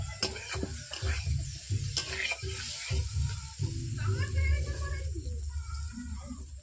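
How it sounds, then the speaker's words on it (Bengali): Cauliflower and potatoes being stir-fried together in a pan with salt, a steady sizzle with scraping stirs throughout, fairly close and continuous, with no talking. "ফুলকপি আলু একসঙ্গে ভালোভাবে কষিয়ে নিতে হবে"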